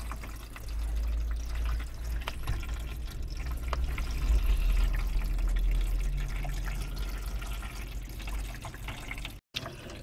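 Water sprays steadily over a Cadillac CTS-V during a trunk leak test, a continuous hissing, splashing wash with a low rumble under it, unbroken except for a brief dropout near the end.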